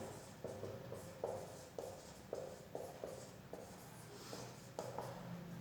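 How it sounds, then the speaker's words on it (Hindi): A pen writing notes by hand on paper or a board during a chemistry lesson on coordination compounds, giving soft rhythmic strokes at a steady pace over a low background hum, with no speech. "मैं नोट ये लिख रहा हूं, दूसरा ये लिख दिया मैंने।"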